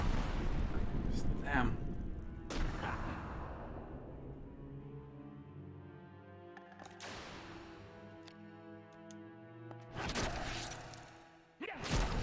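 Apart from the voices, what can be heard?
Flame Sphere level 2 spell from Vagrant Story video game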